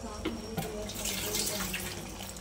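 Water poured in a steady splashing stream into a pan of chicken curry, close by, with faint background noise throughout.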